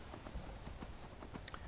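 In Skyrim, the horse Shadowmere's hooves clip-clop in a quick, regular gait, a steady run of soft thuds close by with no voices.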